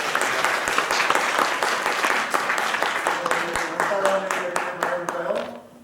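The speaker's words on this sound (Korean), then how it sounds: "우리 주님께 영광의 박수 한번 드리겠습니다." A church congregation applauds during a Christmas Sunday worship service, producing dense, steady clapping that fills the room for several seconds, while sustained musical tones join in and the clapping fades out at the end.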